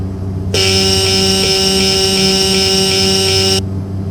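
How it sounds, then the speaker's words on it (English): Landing gear warning buzzer in a Turbo Commander cockpit in X-Plane 11, a loud harsh steady tone that sounds for about three seconds over engine drone, then cuts off abruptly. "Be aware there might be a loud buzzer here."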